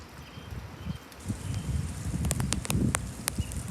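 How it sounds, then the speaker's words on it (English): Gusty wind picking up during a thunderstorm in open country, a faint rushing and rustling with soft buffeting and a few light clicks, no voices. "And the wind's starting to crank up."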